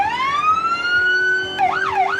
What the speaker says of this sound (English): So basic sirens and your basic police car horn.